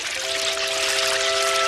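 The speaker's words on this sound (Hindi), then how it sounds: "अरे मॉम, हमारी बोट में तो पानी भर गया है।" Cartoon sound effect of water pouring into a small boat: a steady splashing, hissing stream with a faint sustained tone underneath, continuous and fairly close, with no speech.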